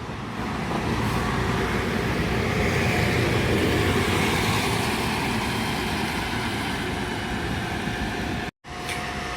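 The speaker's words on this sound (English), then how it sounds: "coming in now is the Hartpury College and University shuttle bus service" A Volvo shuttle bus for Hartpury College and University rolls through Gloucester Transport Hub, a loud, steady engine and road rumble that holds close for several seconds before cutting off abruptly.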